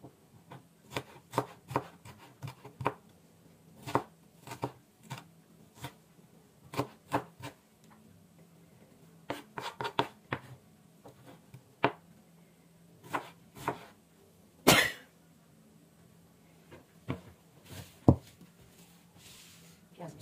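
A knife chops onion on a cutting board in short bursts of sharp, close taps, irregular in rhythm with pauses between runs, plus one louder clatter near the end.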